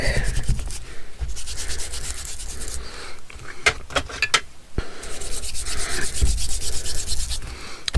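Dark ink rubbed onto a layered paper tag with an applicator, heard as close, rhythmic scrubbing strokes in quick repeated bursts with a few short pauses and taps, no talking.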